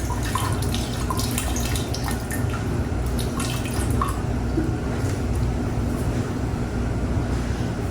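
Water pours and trickles steadily into a container holding a bamboo plant, with scattered drips and splashes over a constant low rushing background throughout, close and moderately loud.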